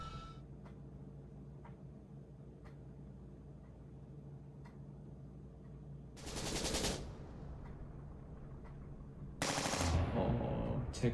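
Two short, loud bursts of rapid gunfire stand out against a low background hum with faint regular ticking.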